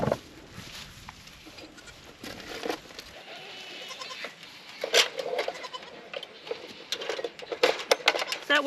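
Dairy goats in a herd bleating at a feeding area, scattered calls rising under a person's talk, fairly close and moderately loud.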